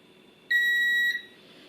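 A multimeter continuity tester sounds one steady electronic beep, about two-thirds of a second long, while probing the wires of a motorcycle switch, loud and clear over a quiet background.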